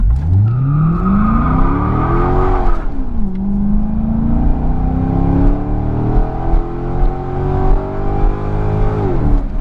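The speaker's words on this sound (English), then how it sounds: "we're at a stop sign here, and I figured let's just give it a little gas, have a little fun." A Mercedes S600 V12 pulls away hard from a stop sign, its engine note climbing steadily in pitch and loudness with one brief dip as it shifts, then rising again in a long, smooth, close-up surge with no talking.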